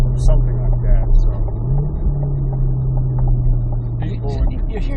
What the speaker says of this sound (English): you hear this car shifting by itself